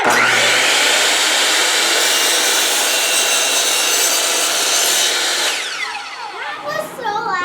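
A saw rasps steadily through wood for about five seconds, loud and close, then stops as faint voices and rustling follow.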